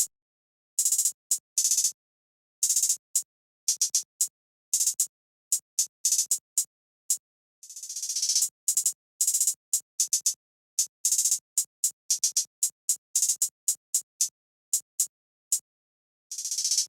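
Crisp, bright hi-hat ticks in a busy, syncopated pattern, with quick rolls and one longer opening hat, played alone without any other drums.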